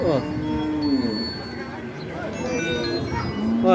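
A cow at the Gabtoli cattle market in Dhaka before Eid sacrifice moos in long low calls, near and clear, amid the chatter of a busy crowd.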